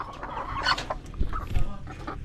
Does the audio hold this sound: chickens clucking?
yes